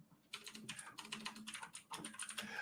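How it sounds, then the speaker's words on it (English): Someone types rapidly on a computer keyboard, a quiet but close flurry of crisp key clicks in uneven bursts with brief pauses, with no talking. "Why are you furiously typing?"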